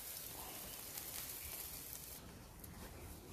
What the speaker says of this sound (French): il pleut un petit peu